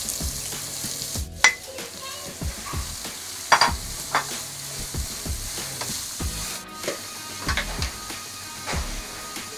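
Chopped cabbage stir-fried in a pan for Kerala thoran, with soft frying hiss and repeated scraping stirs and clinks of a spatula against the pan, close and alone.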